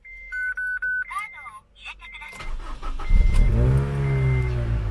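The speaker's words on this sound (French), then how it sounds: "on va redémarrer la voiture" A car engine cranks and catches after a few electronic beeps, then settles into a steady, loud idle with a low rumble.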